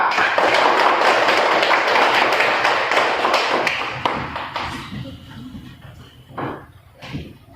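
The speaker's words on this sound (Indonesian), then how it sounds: "kita kasih aplaus untuk teman kita dari kelompok A" A classroom gives a group of students a round of applause. Dense clapping from many hands starts loud and close, then thins and fades out into a few scattered claps and room noise.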